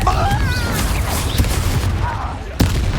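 Confringo, an explosive fire spell, goes off in Hogwarts Legacy battle: rumbling blasts and booms with whooshing magic effects and a sharp crack near the end, under brief combat voices.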